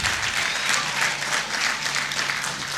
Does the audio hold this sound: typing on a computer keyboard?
no